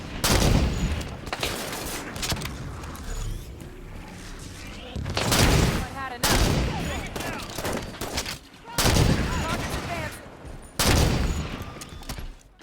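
Sniper and rifle fire in Halo 5 on Heroic difficulty, several loud separate bursts of shots spaced a few seconds apart, with faint voices between them.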